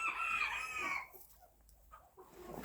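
A nearby chicken clucks and calls loudly for about a second, followed by quieter scattered clucks and soft farmyard sounds, with hens and roosters near a coop.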